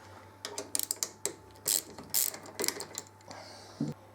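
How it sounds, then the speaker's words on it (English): Ratchet clicking as it undoes Allen bolts on a 2013 Triumph Street Triple R, several quick close bursts of sharp pawl clicks with brief pauses between. "So now we need to undo the 2 Allen bolts."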